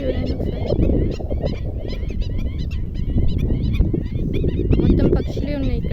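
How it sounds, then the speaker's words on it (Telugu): A large flock of geese-like birds honks and calls continuously across a big pond beside farm fields, a loud dense chorus of overlapping cries with wind and low background noise throughout. "మొత్తం పక్షులే ఉన్నాయి ఇక్కడ"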